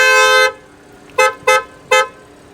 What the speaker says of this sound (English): Okay, so now we have the horn, which sounds a bit like this.